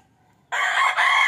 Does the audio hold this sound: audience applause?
no